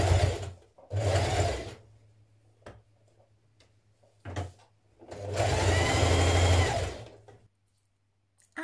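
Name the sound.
sewing machine stitching collar of Style Arc Teddy Top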